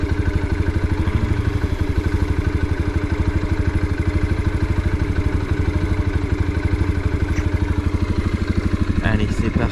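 A motorcycle engine idles steadily and close, a regular low thumping clatter running throughout with a brief sharper knock near the end.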